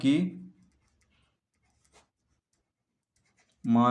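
A pen draws a right isosceles triangle on paper for a class 9 geometry exercise. It makes faint, sparse scratchy strokes in a quiet pause between stretches of speech.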